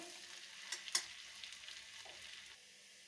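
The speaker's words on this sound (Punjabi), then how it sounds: "ਬਰੀਕ ਕੱਟਿਆ ਹੋਇਆ ਲਸਣ ਪਾ ਦਾਂਗੇ ਲਸਣ ਨੂੰ ਹਲਕਾ ਜਿਹਾ ਪਕਾ ਲਾਂਗੇ" Finely chopped garlic frying lightly in a pan for red sauce pasta, a quiet soft sizzle with a couple of sharper clinks from stirring midway before fading lower.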